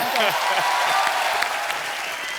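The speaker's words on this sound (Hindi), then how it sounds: "ब्रावो के लिए और जोरदार तालियां हो जाए यार" A television comedy studio audience breaks into loud, sustained applause, with dense clapping that thins slightly toward the end while a voice is faintly heard beneath it.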